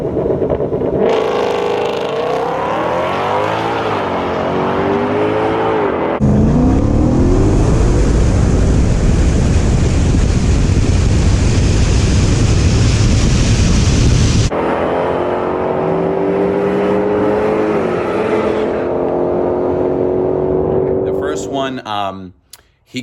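A 2020 Shelby GT500 and a Fox Body Mustang drag racing: loud continuous engine roar with rising revs through gear changes, a harsh flat full-throttle stretch in the middle, then easing off and fading at the end.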